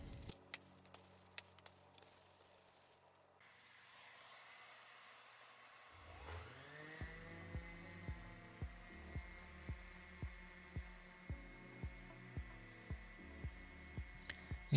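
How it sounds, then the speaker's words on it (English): A power sander fitted with a foam interface pad works mahogany furniture, faintly whirring up to a steady whine midway, with a regular ticking pulse under the hum and no speech. "So I am using a foam interface pad in between my sander and my sandpaper."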